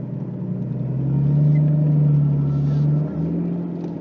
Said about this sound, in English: it's a lot of manifold noise coming out of the car